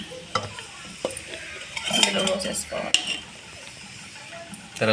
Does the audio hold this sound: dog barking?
no